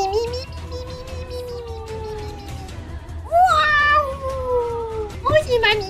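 A pet cat meows at home, making a few drawn-out, rising and falling calls, two of them loud and close, while someone talks over them.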